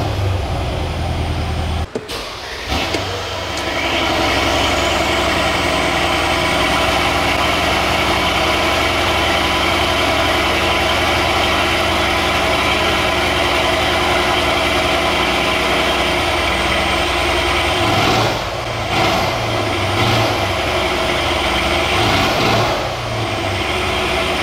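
The 4.6-liter V8 of a 2019 Mercedes GLE 500 Guard idles close by, a loud, even rumble held for over twenty seconds with brief small shifts and no voices.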